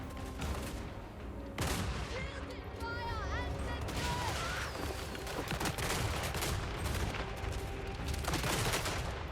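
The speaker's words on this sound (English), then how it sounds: "crane gunners continue firing away" Cathay crane gunners firing in the Total War: Warhammer 3 video game, with dense repeated gunpowder shots and a battle din going on throughout, some whistling projectiles over it and voices in the mix.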